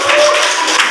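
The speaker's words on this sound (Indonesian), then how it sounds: "Tepuk tangan." Dense, continuous clapping from the audience at a madrasa speech contest follows a contestant's score, with a steady wash of many hands and a faint tone under it.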